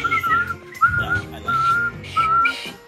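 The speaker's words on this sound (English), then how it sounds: "Chris, nonchalant whistle." A casual, nonchalant whistled tune from the Henry Stickmin video game, several short bright phrases with brief gaps, loud and close, alone without talk.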